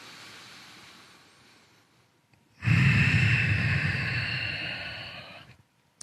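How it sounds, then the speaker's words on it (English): A slow breath in and out through the nose during a back-stretching routine, heard up close and alone: a long, rushing airy stream that rises sharply and fades before stopping. "I'm breathing in and out of the nose here."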